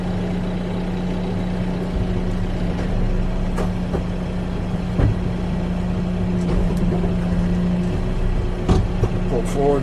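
Tractor with a box blade pulling forward while clearing tree stumps, a steady diesel engine rumble heard from inside the cab, with someone talking over it.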